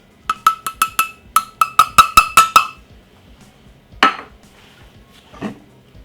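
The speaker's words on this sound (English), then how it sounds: "as you can see, I'm giving it a proper sieve" A metal sieve holding plain flour for Yorkshire pudding batter is tapped about a dozen times in a quick, ringing clatter, followed by two single louder knocks after a pause, close and clear, with no talking.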